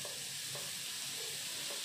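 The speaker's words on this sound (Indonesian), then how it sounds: "Ini bumbunya mau kita tumis dulu" Spice paste for nasi tumpeng being sautéed in margarine in a wok, a steady close sizzle with faint stirring scrapes repeating every half second or so.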